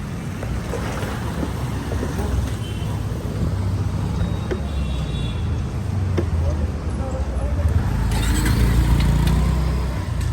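A motorbike rides along a road, its engine a steady low rumble mixed with heavy wind buffeting, continuous for about ten seconds and swelling slightly toward the end.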